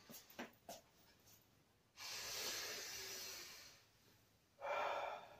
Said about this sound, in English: So my diaphragm is going out when I'm breathing in.